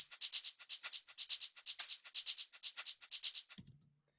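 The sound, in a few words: shaker loop with offbeat notes for groove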